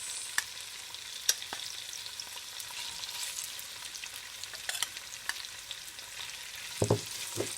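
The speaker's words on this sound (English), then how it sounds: "I'll fry up my shrimp first." Shrimp fry in a pan with a steady, faint broadband sizzle, broken by a few sharp pops and clicks near the end.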